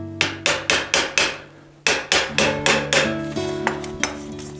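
A small flathead screwdriver taps a stuck cable ferrule on a vintage Cannondale bicycle, a series of about a dozen sharp metallic ringing taps in uneven rhythm, close and clear with no talk.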